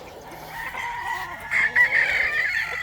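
Boston Black gamefowl crow and cluck close by in a short, lively burst of calls, with a louder, drawn-out crow rising in the second half.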